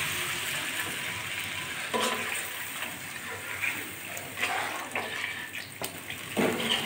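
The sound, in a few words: water poured into pan of spiced fish curry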